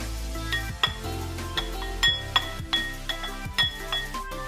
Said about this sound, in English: I'm adding the green one, and I'm going to mix this